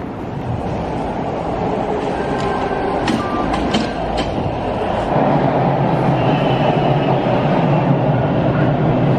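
A Toronto subway train on Line 2 rumbles along the tracks with a steady roar, brief high squeals and clicks, and the rumble deepens and grows louder toward the end.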